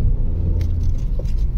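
Steady low road rumble of a car driving through Thrissur, Kerala, at night, a continuous engine and tyre drone with no talk over it.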